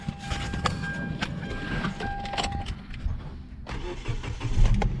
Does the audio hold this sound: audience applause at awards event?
no